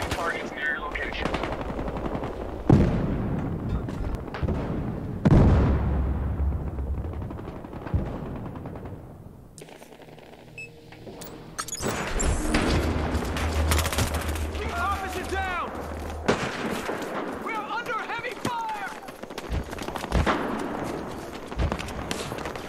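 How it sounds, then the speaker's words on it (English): Heavy automatic gunfire rattles through a team deathmatch round of Battlefield Hardline multiplayer. Loud sustained bursts and fusillades keep up throughout, with brief gaps between them, and game voices can be heard in the mix. "Heavy fire!"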